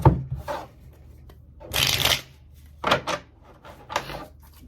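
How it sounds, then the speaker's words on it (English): Tarot cards riffled and shuffled in several quick bursts, close and crisp, with quiet pauses between them. "One more shuffle."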